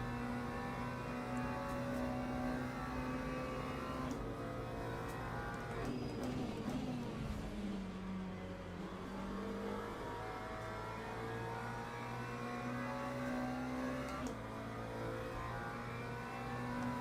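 A race car engine in Le Mans Ultimate drones steadily at mid revs, holding a constant tone with one smooth dip and rise in pitch and a shift near the end, a continuous whirring hum heard alone.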